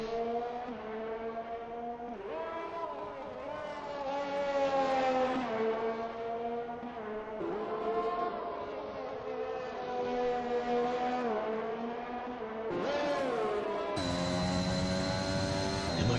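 Race cars roar through a racing video game round set in Russia, including an Aston Martin. Sustained engine whines rise and fall with gear changes, overlapping and continuous, and shift abruptly near the end.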